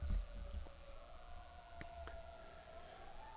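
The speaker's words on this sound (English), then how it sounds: "There's sirens going right now." A siren wails faintly in the distance, its pitch slowly rising and falling over a low background rumble.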